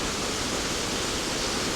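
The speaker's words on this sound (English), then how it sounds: "you can see the entirety of the waterfall from where I'm sat here" A hidden waterfall roars in a steady, dense wash of rushing water, close and continuous from start to end, with no voices.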